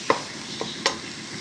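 A spoon stirs red beans with fenugreek in a pot, giving three light scraping clinks over a faint background hiss.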